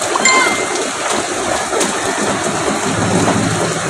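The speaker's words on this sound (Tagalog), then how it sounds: "yung bubong namin, tumagas na rin sa lakas ng ulan sa buong Magdamag" Heavy rain pours steadily onto and through a roof during a typhoon, a loud continuous wash of hiss and patter close by, with no talk.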